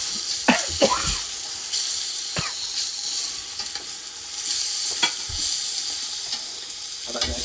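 Meat sizzles and fries in a pan while a spoon stirs it, with sharp scraping strikes against the pan over a steady hiss. A few faint voices sound in the background.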